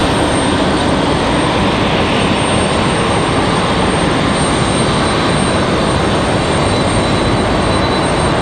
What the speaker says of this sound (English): We can catch Frontier landing on the other side